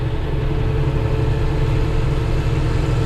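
A farm tractor engine runs steadily at a low, droning idle, loud and close, with a constant rumbling hum and no talk.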